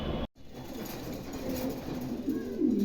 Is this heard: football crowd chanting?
no